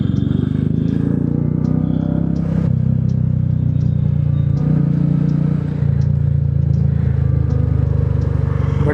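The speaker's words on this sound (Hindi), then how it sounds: "So my bike is now really loud and lot of fun to ride." A Royal Enfield motorcycle with a straight-piped Red Rooster exhaust thumps loud and close, its steady rapid pulsing rising and falling slightly with throttle over several seconds, with no voices.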